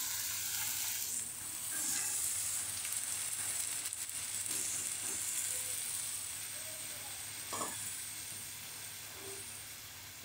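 Soaked sprouted moong and matki beans sizzle and fry in a hot pan, a steady loud hiss throughout with brief stirring clatters near the end.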